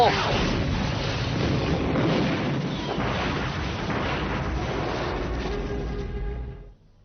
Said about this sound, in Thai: นั่นมันระเบิดอะไรอ่ะ